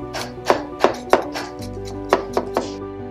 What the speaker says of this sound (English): I'll also chop 2 cloves of garlic